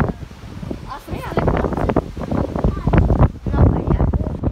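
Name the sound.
cold wind blowing at a wild beach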